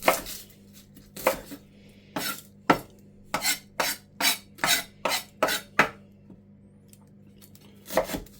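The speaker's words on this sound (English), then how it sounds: "Now what I'm doing is I'm just chopping these in half" A knife chops vegetables in half on a cutting board for a venison roast stock, in a series of crisp, close thuds, pausing briefly between bursts.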